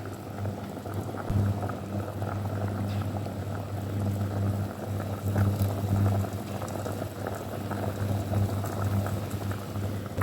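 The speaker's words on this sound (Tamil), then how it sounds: "தேங்காய் சுட்டுகளையும் சேர்த்து நாங்கள் அவிய போடுவோம்" Coconut pieces boiling in a pot of Jaffna-style Aadi kool, a steady close bubbling and simmering that carries on evenly, with no voices over it.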